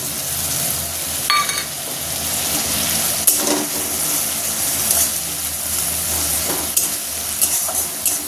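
Mustard paste with green chili and garlic sizzles steadily in a hot pan on a home stove, with a constant loud frying hiss and occasional scrapes of a spoon stirring, and no voices.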